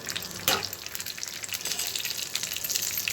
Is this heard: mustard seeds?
yes